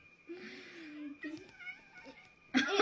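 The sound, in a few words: cat meowing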